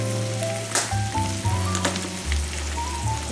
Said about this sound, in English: We'll let this simmer for just a minute.